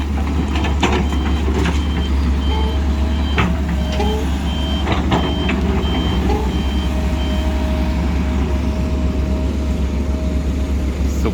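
A six-wheel dump truck reversing at a dirt excavation site sounds its backup alarm, steady repeated beeps over a loud constant diesel engine rumble with occasional knocks and clatter.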